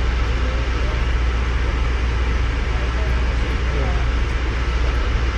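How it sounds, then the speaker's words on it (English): Continuous low rumble and rattling hum from inside a moving train, steady and droning with faint clatter throughout. "It's been a rough train ride."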